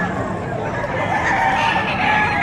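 Chickens and a rooster crow and cluck amid the bustle of a livestock auction market in Padre Garcia, Batangas, with the calls rising over a dense, noisy background.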